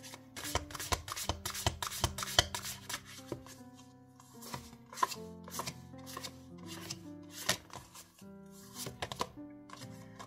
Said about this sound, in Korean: 결론 메시지 오라클 카드 한 장 볼게요.